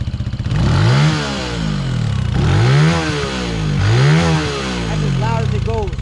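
A motorcycle engine fires up and revs repeatedly, rising and falling in pitch in three strong surges, loud and close throughout.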